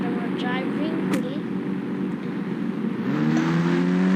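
Engine drone of a motorbike driven in the Indian Bike 3D video game, a steady mid-pitched hum that rises in pitch near the end as it accelerates, with game sounds over it.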